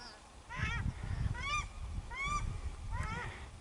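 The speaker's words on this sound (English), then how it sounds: "I've got two paradise ducks who are really quite annoyed at me." Two annoyed paradise ducks in a valley give loud, honking calls in repeated bursts, four or five rising cries spaced about a second apart over low rumbling background noise.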